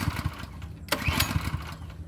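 A pressure washer's small engine is pull-started on half choke, giving a series of close chugging thumps from the recoil pulls with a sharp scraping rattle midway, but the engine never catches.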